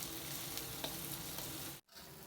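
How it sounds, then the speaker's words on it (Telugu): Onions sizzle steadily in hot oil for a methi chicken curry, a dense even hiss that breaks off briefly near the end before resuming. "ఒక రెండు నిమిషాల పాటు ఆయిల్లో ఆనియన్స్తో పాటు మగ్గనిద్దాము"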